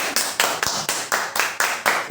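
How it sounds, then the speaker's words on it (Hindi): An audience applauds, a burst of several people clapping in a quick, even rhythm of sharp claps, close and fairly loud, with no talking over it. "तो ताली बजाइए"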